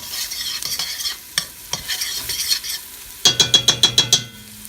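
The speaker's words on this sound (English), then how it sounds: "So I'm just going to kind of stir that in there." A spoon stirs vegetable bouillon base into a pot of vegetarian chili with a quick series of scraping, sloshing strokes, followed by several sharp, evenly spaced taps of the utensil against the pot.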